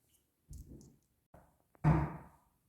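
Little taps sound inside a disused church, a few faint, separate knocks and thumps with quiet gaps between them, the last one the loudest.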